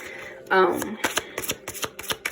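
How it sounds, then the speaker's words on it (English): A deck of romance tarot cards being shuffled, a burst of riffling followed by a run of quick papery flicks and taps, close and fairly loud with no talking. "I'm going to shuffle some romance cards"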